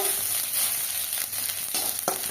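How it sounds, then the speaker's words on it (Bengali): Grated ginger frying in a pan, stirred so the sizzle carries soft scrapes and irregular bursts, close up and fairly quiet over a short stretch. "গ্রেট করা আদাটাকে ভালো করে একটু নাড়াচাড়া দিয়ে"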